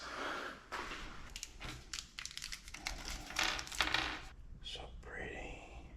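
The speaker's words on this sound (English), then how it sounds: "Now we're going to put on those titanium bolts." Titanium engine dress-up bolts on a Nissan GT-R being set into place by hand, a run of small metallic clinks and taps with light rattling, close and fairly quiet, ending in a brief scraping sweep.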